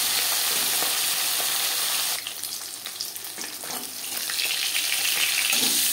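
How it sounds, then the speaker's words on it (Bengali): Tilapia fish pieces fry in a pan with a little oil, giving a steady, crackling sizzle that swells noticeably louder partway through and stays dense to the end, with no voices. "মাছ ভাজা হয়ে গেছে"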